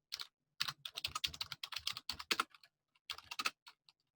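A password is typed on a computer keyboard at a command line, quick clustered key clicks in bursts with a brief pause before a final short flurry, close and clear with no talking.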